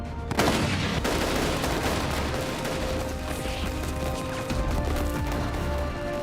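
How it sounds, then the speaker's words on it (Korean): Dense gunfire from a reenactment of the Korean independence army's 1920 battle at Bongodong against Japanese troops, heard as a loud, continuous roar of overlapping shots and bursts with a heavy rumbling background. "봉오동에서 울려 퍼진 독립군의 총성."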